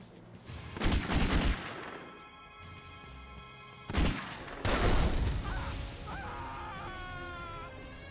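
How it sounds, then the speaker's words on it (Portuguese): Gunfire in The Godfather video game: a loud burst of shots near the start, then a second burst around the middle, with game ambience and faint tonal effects trailing after. "Dar um tiro nele."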